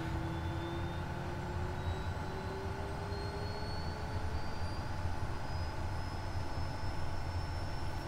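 Turboprop engine of an SWS Kodiak spooling up during a start in Microsoft Flight Simulator, a steady droning roar with rising whine tones, continuous and even with no talk.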